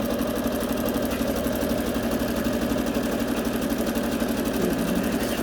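A computerized sewing machine stitching buttonholes on its own, its motor whirring in a steady, fast, even rhythm close by, loud and constant with no talk.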